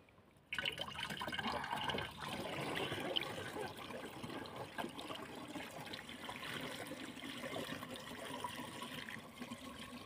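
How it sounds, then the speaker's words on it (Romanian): Water pours steadily into a garden sprayer tank being filled to about 11 litres for a bio insecticide mix. The gushing, splashing stream starts abruptly and runs continuously, close and fairly loud. "Acum punem și apa."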